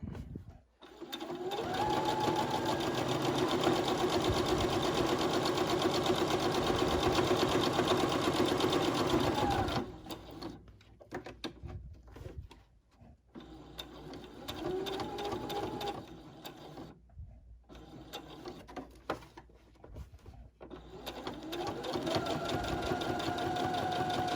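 A sewing machine stitches a quilted Bitzy Bob at a 1/4 inch seam, running loud and steady for about ten seconds, then stopping and restarting in short bursts as it pivots around each corner, before a final steady run.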